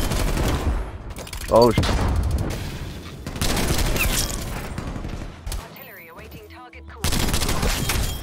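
Gunfire in a first-person shooter, with several loud bursts and shots breaking through dense game noise and a voice talking over it, then a brief quieter stretch before another loud burst near the end.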